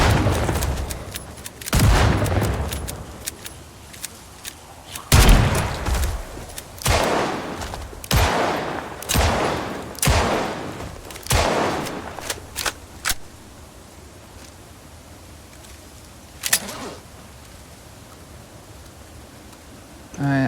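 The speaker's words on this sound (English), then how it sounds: "Busting out the shotgun" Shotgun blasts in a video game, a loud series of about a dozen booming shots spaced roughly a second apart, then quieter rustling and one more distant shot before a final blast.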